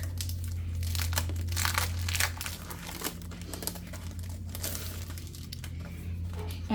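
Plastic packaging on a scrapbook kit crinkles and crumples steadily as it is opened, with close, continuous rustling and tearing bursts over a low background hum and no talking.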